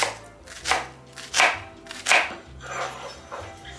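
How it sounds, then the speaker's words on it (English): Knife chopping garlic, onion and cremini mushrooms on a cutting board, five or six separate thuds at an uneven rhythm, close and clear with no voices. "Chop these up nice and small."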